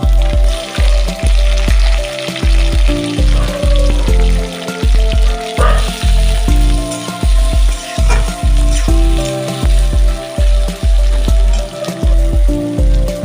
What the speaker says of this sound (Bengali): আলুগুলিকে ভালো করে ভেজে নিতে হবে।